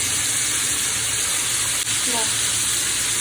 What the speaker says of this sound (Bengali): মাংস আর পেঁয়াজ একসাথে ভাজা ভাজা করবো